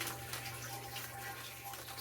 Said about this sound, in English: I'm gonna go fill this jug.